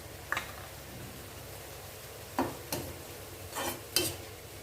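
Vegetables sautéing in a pan with green turkey berries being added, a soft steady sizzle broken by a few sharp scrapes and stirs of a spoon, close and fairly quiet.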